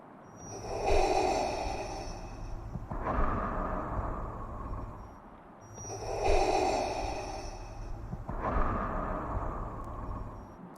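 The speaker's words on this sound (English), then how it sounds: "Darth Vader breathing." Darth Vader's mechanical respirator breathing rasps in slow, steady cycles, two full inhale-exhale pairs each drawn out over several seconds, close and hissing with a hollow, filtered tone, alone with no talking.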